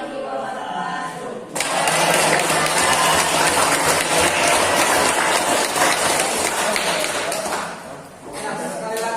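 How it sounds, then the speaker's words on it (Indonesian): Classroom audience applauding a student presentation group, dense steady clapping that starts abruptly and sustains for several seconds before fading. "sekali lagi beri tepuk tangan untuk kelompok 3"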